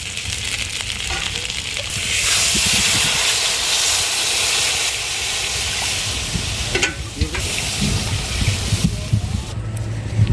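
Water hits a hot pan of frying live puti fish with a sudden loud sizzling hiss that swells, then settles into steady bubbling with occasional clinks of stirring.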